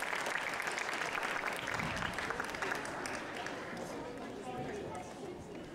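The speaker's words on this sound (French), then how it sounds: "On peut applaudir une nouvelle fois Martina Jelinska." Applause from a fencing crowd for Polish fencer Martina Jelinska during a women's international bout against Battini, a sustained dense wash of clapping that fades slightly toward the end, with crowd noise mixed in.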